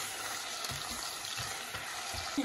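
Onions fry in hot oil with a constant close crackling sizzle, with occasional spoon-stirring scrapes and no talking.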